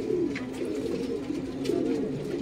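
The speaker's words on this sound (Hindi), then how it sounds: "ये मद्रासी कबूतर है दोस्तों।" Madrasi pigeons coo steadily in a loft, a low continuous rolling murmur from several birds close by with no talk.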